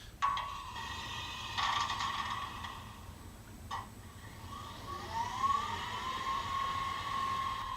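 A Tsunami2 sound decoder in an electric model locomotive plays its pantograph-raise effect: a steady electrical hum with a brief clunk near the start and another partway through, then a rising tone and continuing hum alone.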